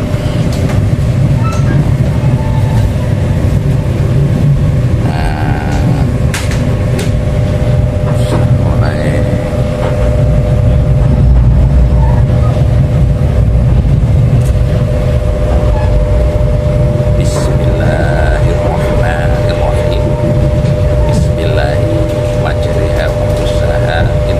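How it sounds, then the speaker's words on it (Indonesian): Ranggajati executive passenger train on the Jember–Yogyakarta–Cirebon route rumbling steadily from inside the carriage, a continuous low rolling drone with a steady hum and occasional faint clanks and squeaks, loud and unbroken throughout. "kereta Rangga Jati eksekutif"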